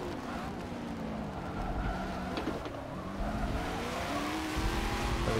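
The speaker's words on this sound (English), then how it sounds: "That's a nice Lambo." A Lamborghini engine in the Forza Motorsport 7 racing game, a steady droning roar with rising and falling pitch as it revs through gears, continuous and fairly close.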